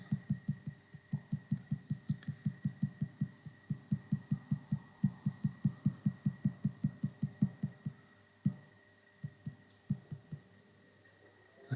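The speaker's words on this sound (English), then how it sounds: "I can hear that the motor's just started rotating now" An electric motor starting to rotate during encoder alignment gives off a faint, low rhythmic thumping, several pulses per second, over a constant electrical hum. The pulses turn irregular and sparse toward the end.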